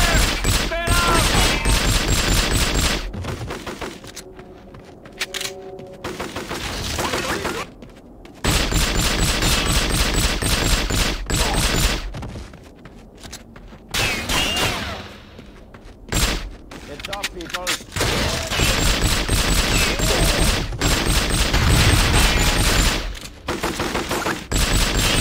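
Bursts of heavy gunfire fill the James Bond 007: From Russia With Love video game, repeated loud volleys broken by brief lulls, with voices calling out between them.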